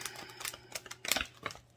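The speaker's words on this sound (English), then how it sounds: "I was just getting those shuffled because they hadn't been shuffled yet." A deck of tarot cards being shuffled produces a quick, irregular run of soft crisp clicks and flutters, close and quiet, with no talking.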